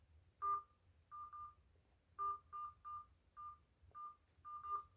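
Telephone keypad touch tones dialing a number into an automated account line for a credit card company, a quick series of distinct beeps in irregular groups, fairly clear over a low background hum.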